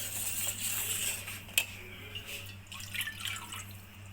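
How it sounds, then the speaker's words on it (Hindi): Sugar and water go into a second pan on the stove for syrup, giving soft pouring and dripping sounds with a sharp clink of metal, fairly quiet against a low kitchen hum. "एक दूसरे पैन में शीरे के लिए चीनी और पानी रख देते हैं।"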